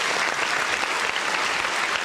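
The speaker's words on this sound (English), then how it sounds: "Let's clap it up for Brock Purdy, man." A brief burst of dense, steady applause, loud and continuous throughout with no voices over it.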